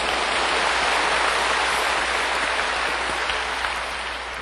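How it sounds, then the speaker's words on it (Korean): A church congregation bursts into dense, loud applause that holds steady for several seconds, then eases slightly toward the end. "예수님 십자가 바라보고 박수를 한번 치십시오."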